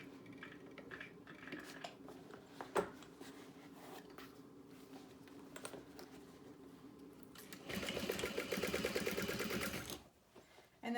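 A sewing machine runs along a bag's side seam in a steady burst of a couple of seconds. Quieter handling clatter comes before it, and the motor stops abruptly.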